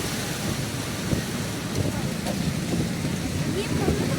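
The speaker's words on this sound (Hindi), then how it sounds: "बहुत तेजी में बारिश आई है।" Heavy rain pours down steadily in a dense, loud wash of hiss that persists throughout, with no break or pause.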